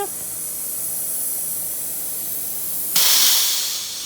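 Compression hissing through a blown head gasket into the coolant jacket, a steady airy hiss that swells abruptly louder near the end.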